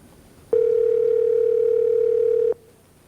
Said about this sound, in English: It's ringing out there at WJOL.